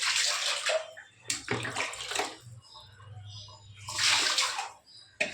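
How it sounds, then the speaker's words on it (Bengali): Water splashes and pours over cleaned hilsa fish during rinsing, in three separate bursts of splashing with quieter pauses between them. "পরিষ্কার হয়ে গেছে আমার, ভালো করে জল দিয়ে দেখাচ্ছি।"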